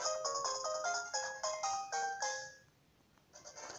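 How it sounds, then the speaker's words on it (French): A bright chiptune jingle from the Pokémon SoulSilver video game plays when a phone number is registered, a quick rising run of electronic beeping notes that ends abruptly and gives way to near silence. "Le numéro de téléphone est enregistré dans le Pokématos."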